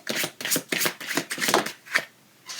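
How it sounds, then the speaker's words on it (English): Oracle cards being shuffled in a series of quick riffling bursts, close and crisp, roughly six separate rustling passes with short gaps between them and a brief pause near the end. "Get another shuffle."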